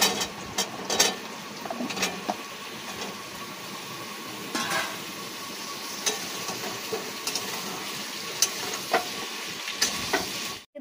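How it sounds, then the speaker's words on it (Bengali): Chopped onion sizzles steadily in hot tempering oil for a cabbage dish, with the crackle continuous throughout and occasional sharp clicks and scrapes of stirring in the pan. There is no talking. "পেঁয়াজ দিয়েছি ফোড়নে।"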